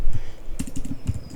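Key presses on a computer keyboard, a quick cluster of close, crisp clicks in an uneven rhythm, loud and alone without any voice.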